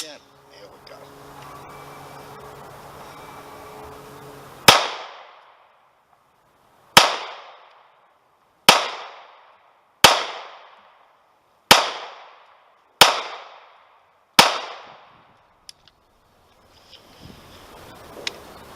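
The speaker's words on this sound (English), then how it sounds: "we had 21 rounds fired" Remington R51 pistol firing Remington ammunition, seven sharp, loud shots spaced a second or two apart, each with a ringing decay, after a stretch of low background murmur.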